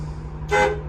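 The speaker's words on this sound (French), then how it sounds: "Le klaxon fonctionne aussi." A car's horn gives one short, clear honk during a vehicle inspection, cutting above a steady low engine hum.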